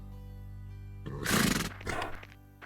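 A wild horse in a cartoon lets out a loud, close whinny and snort over a steady musical background, with no speech.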